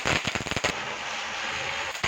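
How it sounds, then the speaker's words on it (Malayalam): Firecrackers bursting during a Vishu celebration: a quick run of loud, sharp cracks, then a sustained crackling hiss, and one more close bang near the end. "പിന്നെ നമ്മൾ പടക്കം പൊട്ടിക്കാനായിട്ട് തുടങ്ങി"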